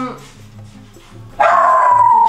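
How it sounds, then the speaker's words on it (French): A dog barks at other dogs outdoors, with one loud, sustained high yelp or howl bursting out near the end after quieter murmuring and background sound. "Pourquoi t'aboies sur les autres chiens comme ça?"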